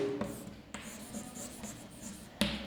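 Handwriting on paper in a classroom lesson, a steady scratchy rasp of pen or pencil strokes with a few sharper taps, fairly close and alone without talk.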